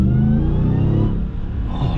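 A Dodge Ram TRX Mammoth 900 pickup, a 900-horsepower supercharged truck, revs with a loud, close engine roar and a high whine layered on top, holding steady and then dipping and rising again.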